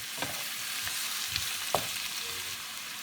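Fresh radish pieces stir-fried in a wok, giving a steady soft sizzle with a few sharp scrapes and clinks of the turning spatula, close and fairly quiet.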